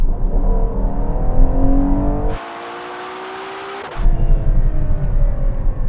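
SUVs launch off the line in a drag race, their engines roaring loudly with rising revs through the gears, then a brief drop in the noise before the engines surge again.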